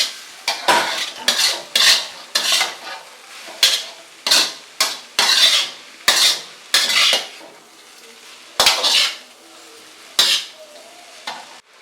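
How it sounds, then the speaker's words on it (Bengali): Vegetable hakka noodles being tossed and stir-fried over a high flame, with a steady run of sharp, close metallic scrapes and clatters of utensil against pan, some sixteen strokes in an uneven rhythm over a soft sizzle, no voices. "তিন 4 মিনিট হাই ফ্লেমে এটাকে আমরা টস করে করে মিশিয়ে নেব আর ফ্রাই করে নেব।"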